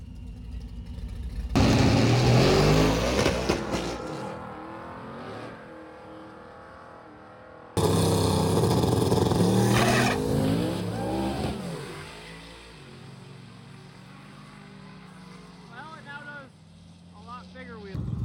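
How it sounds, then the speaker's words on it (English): A C4 Corvette and an old Procharger-equipped Ford Maverick make a drag-racing pass, loud engine roar and revving surging in two bursts and then fading toward the distance, with voices talking over it. "We got the C4 Corvette. And the old Procharge Maverick."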